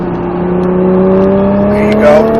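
A Nissan GT-R engine revs under throttle, loud and close, its pitch climbing smoothly and steadily as the car accelerates.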